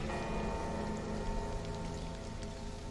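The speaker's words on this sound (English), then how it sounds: "It's raining at the moment," Steady rain falls in the colony survival game Stranded: Alien Dawn, a dense, continuous patter across the whole stretch with no voices over it.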